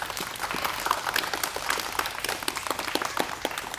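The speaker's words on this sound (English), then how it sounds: "How about a round of applause for that?" An audience applauds steadily at moderate volume, a dense patter of many hands clapping throughout without voices.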